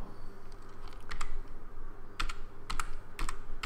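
Typing on a computer keyboard, with several quick bursts of clicking keys separated by brief pauses, close and fairly quiet over a steady low hum.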